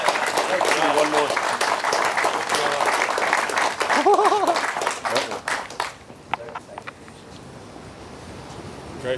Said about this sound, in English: Y'all could clap.